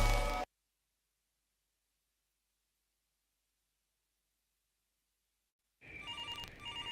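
A telephone rings in short bursts, loud at the very start, then near silence, then the electronic ringing resumes for the last second or so.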